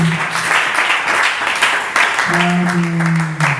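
A church congregation at a Sunday worship service applauds together, a dense continuous clapping that runs throughout, with a sustained voice or tone rising over it midway.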